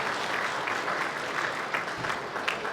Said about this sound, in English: Can we please have another huge round of applause for Senator Dave Sharma